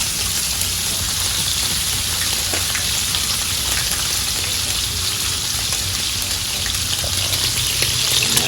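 Butter sizzles loudly in a hot pan with seared sous-vide octopus, a dense continuous crackling hiss that holds steady throughout, no talk over it.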